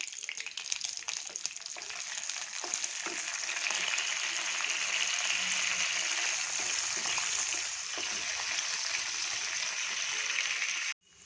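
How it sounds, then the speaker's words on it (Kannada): Raisins, cashews and almonds fry in melted ghee for sweet pongal, a loud, even, continuous sizzle close by that holds steady and then cuts off at the end. "ಇವಾಗ ದ್ರಾಕ್ಷಿ, ಗೋಡಂಬಿ, ಬಾದಾಮಿ ಹಾಕ್ತೀನಿ. ಇದು ಸ್ವಲ್ಪ ಫ್ರೈ ಆಗಲಿ."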